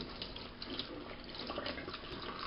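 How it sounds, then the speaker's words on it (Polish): A steady stream of cold running water pours and splashes over peaches in a sink, constant and fairly close. "Brzoskwinie odcedzamy i polewamy zimną wodą."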